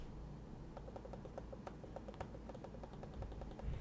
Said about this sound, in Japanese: クリック音が全然違いますね。